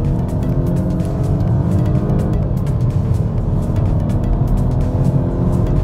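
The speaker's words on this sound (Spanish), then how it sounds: "Ahora les voy a mostrar la aceleración que tiene el nuevo S60 en su versión T5." A Volvo S60 T5 R-Design AWD with a turbocharged engine accelerates hard in Dynamic mode, a steady loud droning engine note with rising harmonics heard from inside the car.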